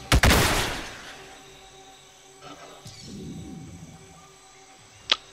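Weapon fire in Roblox Clone Wars: a loud burst of shots at the start, then a scattered, rumbling impact and a single sharp crack near the end, with no talk.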